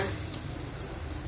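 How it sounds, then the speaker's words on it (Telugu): A dried red chilli fries on low heat in a pan, giving a soft, steady sizzle with faint crackles, close and alone without talk. "ఒక ఎండుమిరపకాయ అండి. సిమ్లో పెట్టుకొని దోరగా వేయించుకోండి"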